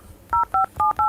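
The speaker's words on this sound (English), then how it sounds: "press star 21 then followed your phone number with area code like this" Phone keypad dialing tones, four short dual-tone beeps in quick, evenly spaced succession, clear and close with no talking.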